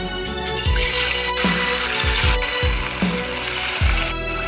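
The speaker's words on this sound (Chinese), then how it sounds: "油温五成热下锅炸" Pork pieces for guo bao rou go into hot oil at medium heat, giving a bubbling sizzle punctuated by several dull clunks and knocks from the wok and utensils, with no speech.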